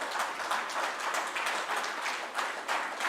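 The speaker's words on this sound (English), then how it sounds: "let us applause for each other" A small conference audience at a shipping IT event claps together, a steady, moderately loud patter of hands lasting a few seconds with no voices over it.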